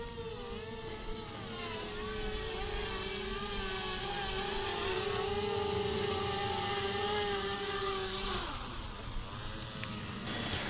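An XK Models XK 450 RC quadcopter flies in to land, its steady whirring motor drone holding an even pitch before dipping and settling near the end, fairly faint against outdoor background.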